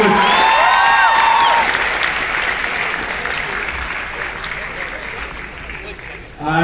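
Big university student crowd of over a thousand claps and cheers for a violinist, loud and dense at first, with bright cheering at the start, then slowly thinning before a fresh swell at the end.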